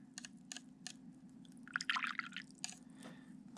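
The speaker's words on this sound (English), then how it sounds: "occasionally just rinse off your brush" Paintbrush rinsed in a water jar while drawing with dip pen and ink: soft close drips and small liquid swishes, with a brief burst of splashy agitation in the middle, quiet and with no talk.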